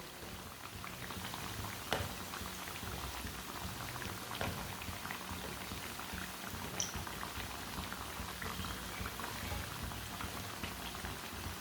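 Samosas fry gently in oil in a pan over a low flame, a soft continuous bubbling sizzle with scattered pops and light clicks, no voices.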